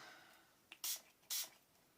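Two short hissing bursts of Distress Oxide spray from a craft spray bottle, close and fairly quiet, each lasting about a quarter second, with a faint click before the first.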